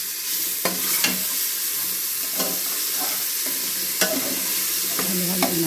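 Garlic sizzles in hot oil inside a pressure cooker, a steady bright frying hiss broken by several scraping clicks of a utensil stirring against the metal pot, close up and with no talking.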